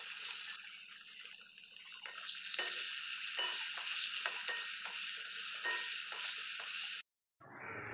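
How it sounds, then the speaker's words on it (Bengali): Fish sizzles steadily in a frying pan on a home kitchen stove, a continuous close crackle with occasional stirring scrapes, cutting off abruptly near the end. "মাছ ভাজা বসিয়ে দিয়েছি। তো মাছটা প্রায় ভাজা হয়েই গেছে।"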